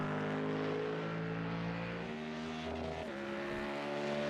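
A Ford Mustang GT3 race car in the iRacing sim at Mosport, its naturally aspirated engine humming loud and near, pitch dropping at a gear change midway, then carrying on steadily with a faint tyre squeal.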